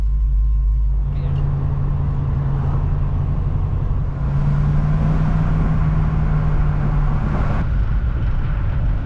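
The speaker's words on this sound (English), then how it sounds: "We'll go for a car ride" Deep steady rumble of a 1971 Ford Mustang convertible driving along with the roof down, engine running rough, constant engine drone and road noise throughout and a brief rise in wind and hiss midway.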